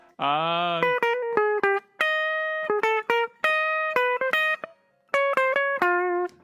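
A thin, nasal electric guitar tone plays a quick string of separate notes and short phrases, with brief pauses between them.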